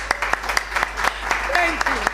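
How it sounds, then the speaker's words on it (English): Audience applause at a literary festival event, a dense crowd of clapping with sharp individual claps standing out, moderately loud, with a few voice fragments mixed in. "a big round of applause for her."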